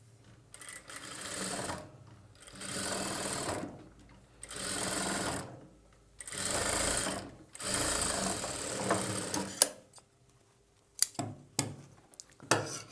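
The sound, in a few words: sewing machine stitching blouse piping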